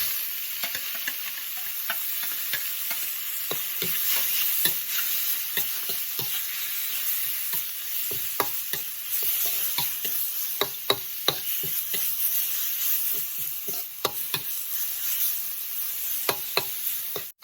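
Northern Thai beef sa being stir-fried briefly in a lightly oiled pan: a steady sizzle runs throughout, with frequent scraping and clinking stirs of the spatula sounding close up, and no talking.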